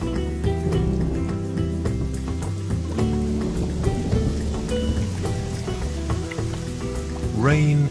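Rain falling on a building site where birds gather wet red clay and mud for nests, a steady patter that lasts throughout, heard beneath layered background music with a rising tone near the end.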